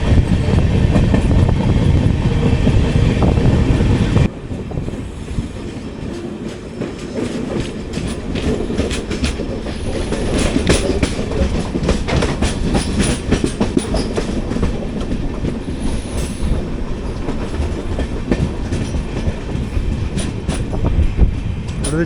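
A 22616 Intercity Express AC chair car with new LHB coaches, running on Indian rails and heard from inside the cabin, with a steady rumble and rhythmic wheel clatter, briefly louder at first, then a continuous rolling drone with faint clicks.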